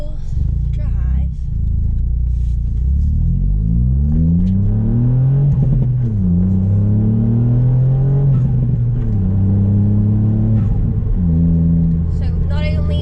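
A Ford Fiesta ST Mk8 fitted with a KMS Hurricane dual exhaust drives along, its engine droning loud and close and rising in pitch through repeated revs and gear changes, with brief dips between pulls.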